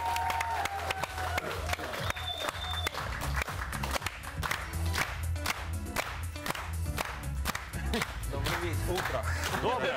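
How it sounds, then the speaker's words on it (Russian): Studio audience applause greets a guest on a talk show, a dense steady wash of clapping that runs the full length, with a voice speaking over it near the start. "Давайте встречать, аплодисменты."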